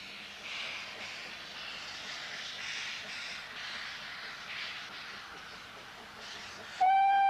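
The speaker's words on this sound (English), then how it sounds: "As the little train puffs and pants its way upwards from Dalgoch" Talyllyn Railway steam train climbing the gradient uphill from Dolgoch, a steady continuous chuffing and rumbling that keeps up throughout, with a sharp steady whistle blast sounding near the end.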